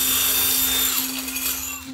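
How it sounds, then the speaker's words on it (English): A drill bit grinding through glass kept lubricated to reduce friction, a steady close, loud whine with a low hum beneath it, running continuously for about two seconds with no voices. "We're gonna use this as like the lubrication for the drill bit to cut through the glass."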